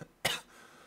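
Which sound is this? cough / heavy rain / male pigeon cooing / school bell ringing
cough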